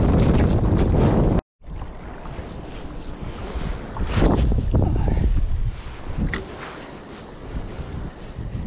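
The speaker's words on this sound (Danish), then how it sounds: "Vinden har stillet en lille bitte smule af" Wind by a fjord buffets the microphone in heavy, rumbling gusts with a brief dropout early on, loud and continuous, with faint water sounds underneath.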